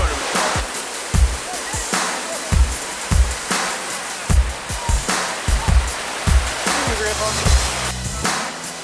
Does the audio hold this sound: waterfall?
yes